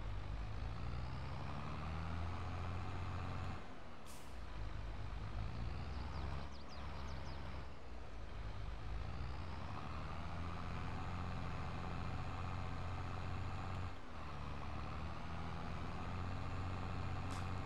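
A heavy vehicle drives uphill in Landwirtschafts-Simulator 22 on a rocky parkour map. Its steady, loud engine drone runs throughout, with a few sharp hissing accents along the way.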